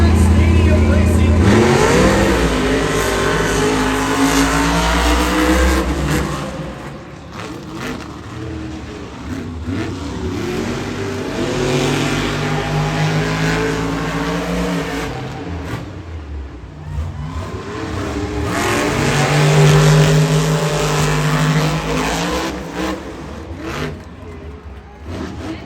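Monster Jam monster trucks race around a stadium track at the World Finals racing final, engines roaring and revving loudly and continuously, swelling and fading across the run, with an announcer talking over the noise.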